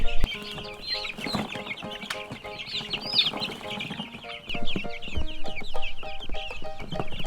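A crowd of young free-range chicks on a farm, being moved and vaccinated, fill the air with dense, continuous high cheeping and peeping, close and busy, with occasional soft clucks and handling knocks underneath.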